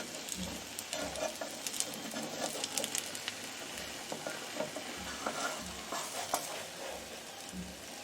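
Food stirs and sizzles while frying in a pan, a steady crackling hiss with soft scraping turns as it is flipped, close and continuous.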